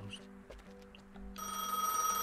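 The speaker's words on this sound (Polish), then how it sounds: "Ale muszę odebrać telefon." A telephone rings in Gas Station Simulator on Xbox Series X, a steady electronic trill that starts partway through and holds over faint background game sounds.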